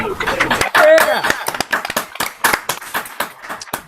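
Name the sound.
applause for performer Larry Kaplan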